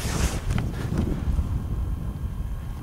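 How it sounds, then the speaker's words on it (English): Wind gusting across an open hillside at a paragliding site in January, a steady broadband rush buffeting the microphone throughout. "That wind's blowing right up my jumper."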